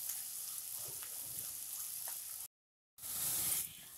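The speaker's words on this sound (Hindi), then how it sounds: "तो हम इसे भी 2 मिनट तक प्याज के साथ भून लेंगे।" Coarsely crushed ginger and garlic frying with onion in a pan, a soft steady hiss of sizzling close by, briefly cut to silence before resuming.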